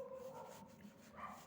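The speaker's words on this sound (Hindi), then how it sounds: "कुत्ते भौंक रहे हैं" Several dogs bark and yip somewhere outdoors at a moderate distance, short whimpering calls that rise and fall against a muffled background.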